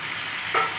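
Chicken and spices stir-fried in a pan for a Bengali chicken kasha, a short burst of sizzling with a quick scrape of stirring, close and fairly loud.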